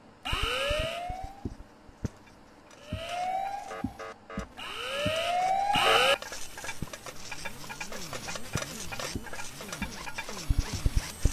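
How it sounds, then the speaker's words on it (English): A wailing alarm siren in the video game Ice Cream 4 rises in repeated sweeps, then gives way to a faster, warbling siren pattern that continues steadily at moderate volume. "sound the alarm!"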